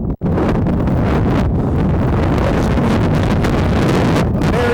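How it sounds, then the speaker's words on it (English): Strong gusty wind buffets the microphone at a high school baseball ballpark, a loud continuous broadband rush that roars steadily throughout with only a momentary dropout near the start. "Very windy ballpark here at U.T.H."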